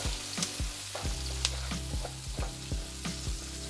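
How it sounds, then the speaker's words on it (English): Chopped onion frying in oil in a pan for a beef rib caldareta, a steady close sizzle broken by repeated scraping stirs and utensil knocks, with no talking. "We'll add a little bit of oil. And then we'll do our onion."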